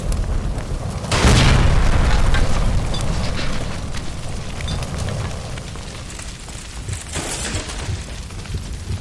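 A gas line bursts into a loud, roaring explosion in L.A. Noire, a sudden heavy boom followed by seconds of rumbling fire and debris that slowly fades.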